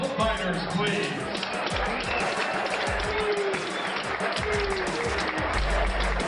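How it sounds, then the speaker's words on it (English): Dense applause from the crowd at an MMA pro fight night in the pavilion in Tampa, Florida, honoring both fighters, steady and fairly loud throughout, with some sharp bangs and voices mixed in. "let's have a nice round of applause for both fighters"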